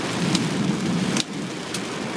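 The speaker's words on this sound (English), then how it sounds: "Hail! Whoa, a lot of water." Heavy rain and hail pour down in a storm, a dense, loud roar of water with sharp, brief impacts standing out. No voices are heard.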